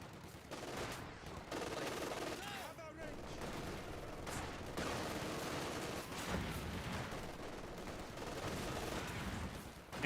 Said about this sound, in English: Infantry 4-2 firing away.